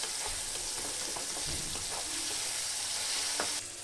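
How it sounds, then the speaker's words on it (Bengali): Spices with turmeric, salt and sugar fry for tadka dal, producing a steady close sizzle with occasional stirring scrapes and pops, with no talking. "তো এরপরে ভেজে নেবো"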